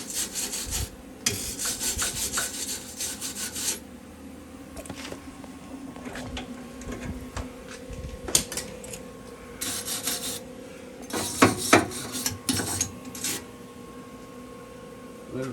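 Wire brush scrubbing fresh weld on the right-side steering rack bracket of a 2002 Toyota Tundra SR5 2WD, harsh raspy strokes in bursts separated by pauses, close and fairly loud.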